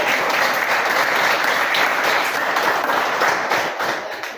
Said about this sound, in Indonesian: kita kasih tepuk tangan untuk teman-teman kita